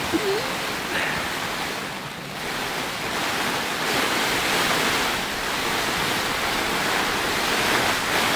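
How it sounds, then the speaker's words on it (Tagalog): Heavy rain roars steadily on a campsite tent at Lake Tabeo, a dense wash of noise with gusts of wind, loud and close throughout. "sobrang lakas ng ulan"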